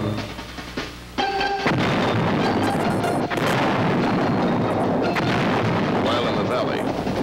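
Artillery fire from Vietnam War guns shelling enemy positions near Dak To, a dense, continuous rumbling barrage of booms after a short burst of tonal noise, loud and unbroken throughout.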